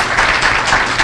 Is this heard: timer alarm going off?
no